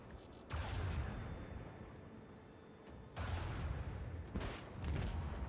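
Gunfire rattles in the Warhammer 40,000: Rogue Trader video game, two sustained bursts of dense, noisy volleys separated by a brief lull, fairly distant and steady rather than sharp single shots.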